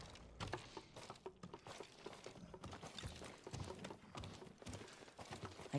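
Faint, rapid clip-clop of horse hooves from Ghost of Tsushima patters continuously over a soft, busy background.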